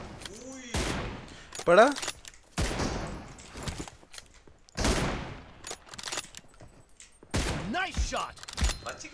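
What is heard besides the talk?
gunfire in PUBG Mobile video game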